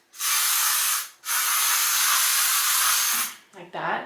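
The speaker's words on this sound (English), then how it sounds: "I could spray it with a little spray." Amika volumizing finishing hairspray hisses from an aerosol can in two close, loud bursts, a short one and then a longer steady spray of about two seconds, followed by soft handling noise.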